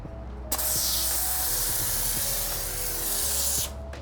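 An IK Foam Pro 2 electric foamer spraying onto a black fender, a loud, steady continuous spray hiss lasting about three seconds over the motor's low hum, starting and stopping sharply.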